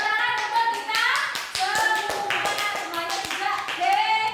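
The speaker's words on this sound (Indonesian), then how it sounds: "Oke, tepuk tangan untuk kita" A primary-school class of children claps together in a classroom, a loud, close burst of many small hands with scattered sharp slaps, mixed with children's voices chattering over it.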